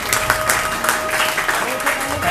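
Audience applause at a sports award ceremony, a dense steady wash of clapping running throughout, loud and continuous with a crowd murmur underneath.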